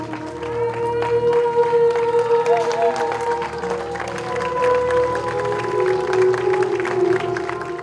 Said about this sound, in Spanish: Los asistentes agradecieron con aplausos a los participantes